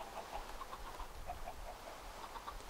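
Chickens in the video game Minecraft clucking softly in a quick, repeated series of short notes, faint and distant over low background noise.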